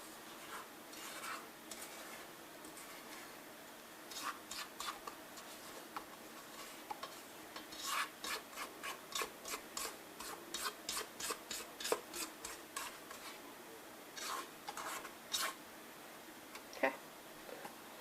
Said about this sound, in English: scrape down the sides too while we have the beaters off